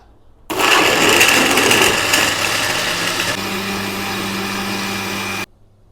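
A kitchen blender whirring a health drink, starting abruptly at full loud whine, holding a steady roar for about five seconds with a slight drop in pitch, then cutting off.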